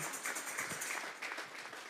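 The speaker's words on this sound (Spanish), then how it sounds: "Vamos a darle un fuerte aplauso pues al Señor." A church congregation applauds during a sermon with a brief, moderately faint burst of clapping that fades near the end.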